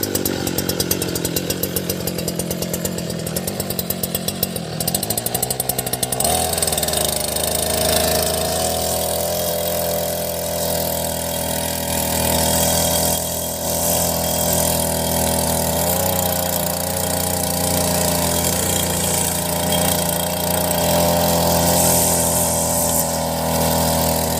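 Engine of a homemade multipurpose agriculture machine with a gearhead driving the front wheels runs steadily, a loud continuous drone with a buzzy chainsaw-like tone, shifting slightly after a few seconds, then holding even throughout with no talk.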